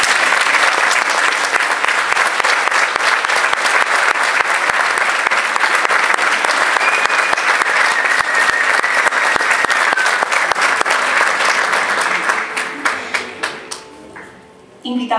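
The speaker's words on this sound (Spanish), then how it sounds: "Les damos un afectuoso aplauso." Sustained audience applause at a university music education graduation ceremony, loud and steady clapping from a large crowd for about twelve seconds before it tapers off and briefly drops to near silence.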